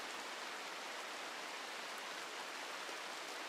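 Rain pours in the colony-management game RimWorld as a constant, uniform hiss of falling drops, filling the whole stretch evenly with no voices or breaks.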